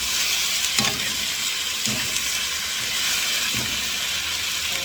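Food fries in a pan with a steady, dense hiss and sizzle, broken by a few soft stirring scrapes, heard up close with no one talking.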